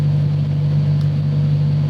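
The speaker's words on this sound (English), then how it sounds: "Oh, you could hear the engine note change." Car engine idling steadily on a dyno during live ECU tuning of volumetric efficiency, a loud, constant low hum with a slight shift in tone partway through; no talking.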